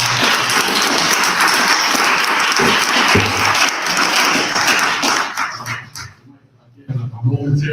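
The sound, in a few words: round of applause at board meeting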